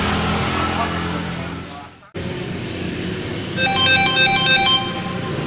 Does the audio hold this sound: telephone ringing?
yes